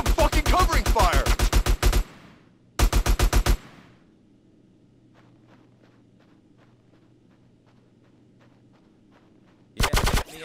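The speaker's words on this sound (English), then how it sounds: "Give me some fucking covering fire!" Rapid automatic gunfire in Grand Theft Auto: San Andreas, two loud close bursts of fast, even shots, then quiet with faint scattered footsteps, and another burst at the end.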